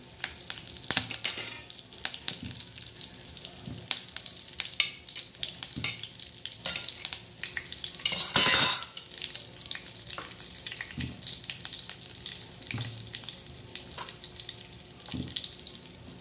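Curry leaves in hot oil for a village-style black masala mutton give a faint, patchy frying crackle with scattered pops and clinks, and a short loud rushing hiss bursts out midway. No one speaks.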